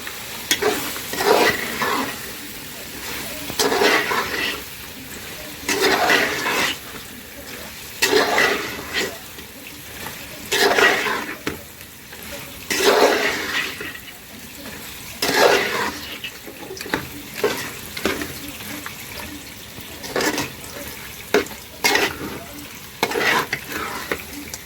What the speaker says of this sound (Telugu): కారం వేసుకున్నాక కొంచెం సేపు ఇలా కలుపుకోవాలండి.